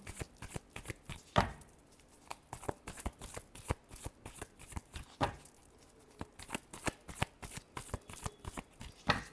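Tarot cards being shuffled by hand in repeated bursts of crisp riffling and flapping, close and fairly quiet, with short pauses between passes and no talking.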